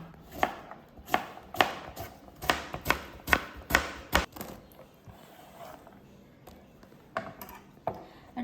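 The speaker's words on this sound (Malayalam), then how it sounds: "ഇനി നമുക്ക് കുക്കുംബർ ഇതുപോലെ അരിഞ്ഞെടുക്കാം." A knife chops through cucumber on a cutting board, about ten sharp, evenly spaced thuds close by, then slower, softer taps trailing off.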